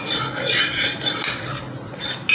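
A utensil rasps repeatedly against the sides of a wok holding milk, in several rough scraping strokes up close with short gaps between them; no one speaks.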